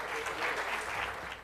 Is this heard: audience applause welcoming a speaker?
yes